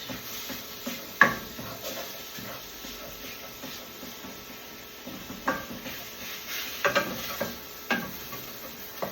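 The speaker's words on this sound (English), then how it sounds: "you just cook your sausage" Sausage sizzles steadily in a pan while a utensil scrapes and stirs it now and then with soft clinks, close by and with no talk.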